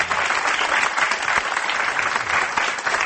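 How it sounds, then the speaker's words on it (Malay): A live audience claps steadily for a research fellow of a Malaysian university's Malay world and civilisation institute, a dense, even wash of applause lasting the whole stretch with no voices over it. "Tepukan untuk beliau."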